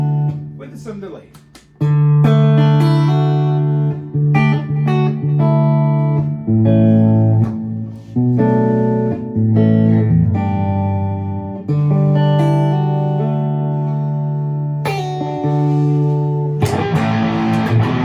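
Bass through a Boss RV-500 reverb pedal stacked on amp spring reverb with delay added, a run of sustained and shifting notes with echoing trails, loud and close, ending in a brief burst of noisier strumming.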